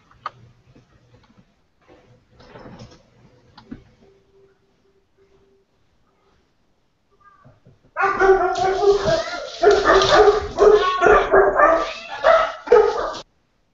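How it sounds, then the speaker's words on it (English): A dog runs loose in the hall at a Star Wars card game championship in Toronto. After faint ticks and distant murmur, a loud run of repeated barks and yips arrives up close. "Got a dog running wild in there."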